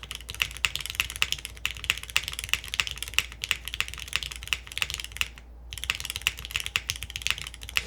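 Rapid typing on a Neo98 mechanical keyboard fitted with a Cherry-switch space bar, a dense stream of close, crisp clacks with deeper thuds mixed in and one brief pause, steady and moderately loud with no voices.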